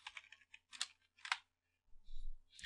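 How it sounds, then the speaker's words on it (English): Quick bursts of keystrokes on a computer keyboard, close and clear, with short pauses between clusters of clicking and a brief low thump near the end. "Let me go ahead and type that out."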